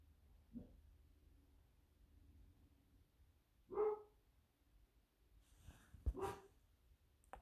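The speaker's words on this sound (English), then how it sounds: "Dog's barking." A dog barks in short, separate bursts, a few sharp yips spaced seconds apart, moderately close against a quiet background with no talk.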